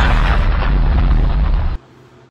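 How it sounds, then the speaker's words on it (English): A loud, roaring explosion in a fan-made animated battle video, a dense burst of low rumble and crackling debris that holds for nearly two seconds then cuts off abruptly to near silence. "pretty explosion"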